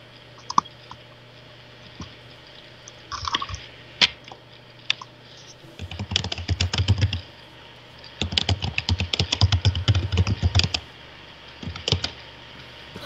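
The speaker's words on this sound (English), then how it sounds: "We hear you typing and everything." Rapid keystrokes on a computer keyboard come in bursts of close, crisp clicking, with brief pauses and a couple of isolated taps, and no one talks.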